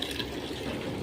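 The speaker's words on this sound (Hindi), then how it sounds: "तो बाल्टी भर लिया पानी की" A plastic bucket filling with water from a tap, a steady close rushing splash that runs without a break through the short moment.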